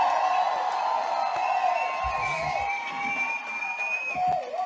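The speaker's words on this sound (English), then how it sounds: "Can't do it without the cheer." An audience at a speaking summit cheers and whoops, a sustained mix of shouts and high calls from a crowd, fairly loud and continuous throughout.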